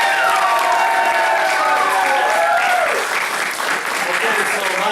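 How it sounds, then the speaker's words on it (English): An audience at a Family Martial Arts Center belt ceremony in Mount Dora gives loud, sustained applause, with rising cheers and shouted voices over the clapping before it eases slightly. "Give Maya a big round of applause"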